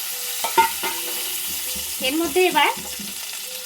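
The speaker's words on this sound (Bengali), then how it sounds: "কড়াইয়ের মধ্যে দিয়ে দিলাম সর্ষের তেল। দিয়ে দেবো ছাড়িয়ে রাখা ডিমটা।" Peeled boiled eggs going into hot mustard oil in a wok for an egg and potato curry, with a crackling fry and stirring scrapes beneath a person speaking briefly.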